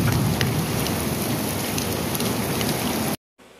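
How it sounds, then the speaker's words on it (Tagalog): Heavy rain and strong wind outdoors in Taiwan: a loud, dense, steady roar of downpour that runs without letup, then cuts off abruptly near the end. "Eto na, umulan na nga ng malakas."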